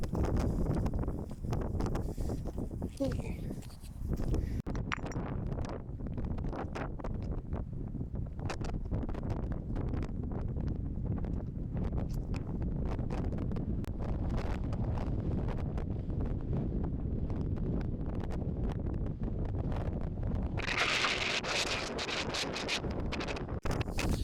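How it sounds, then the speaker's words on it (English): Strong wind buffets the microphone in a constant loud roar throughout, with gusts rumbling and no voices, at a clifftop lookout over the Great Australian Bight on the Nullarbor. "Ah, too windy!"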